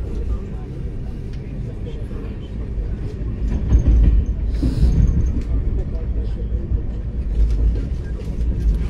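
A passenger train rolls along, giving a steady low rumble with faint clickety-clack that swells midway, heard from inside and running continuously throughout.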